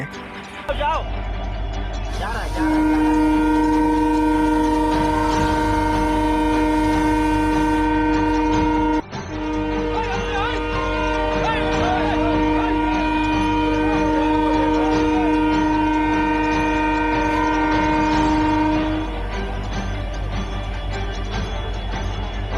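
Passenger train approaching and passing, with a loud sustained horn blast over the steady roar of the rolling train. People talk throughout.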